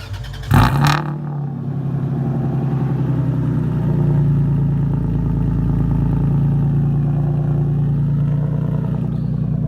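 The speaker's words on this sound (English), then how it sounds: "Here's a cold start." A car with a Megan Racing mid-pipe exhaust cold-starting: a sharp starter crank and catch, then a loud, steady high idle that drones on close by without pause, with no talking.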